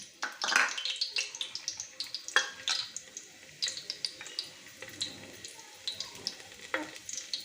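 Cumin seeds and a bay leaf hit hot oil in a pot for aloo matar pulao, giving a crackling sizzle of sharp pops and spits over a soft hiss.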